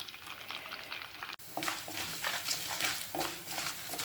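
Dried red chilies, curry leaves and garlic fry in hot oil for a Tamil okra poriyal, a faint crackling sizzle with scattered pops and spatters after a brief cut.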